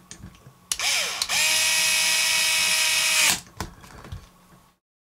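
A torque-set power driver snugs screws on the transmission of a 1/5 scale HPI/Rovan RC car, giving one close, steady high whine for about two seconds, with clicks and handling noise before and after.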